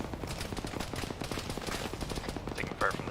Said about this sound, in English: Taking fire from the south, red.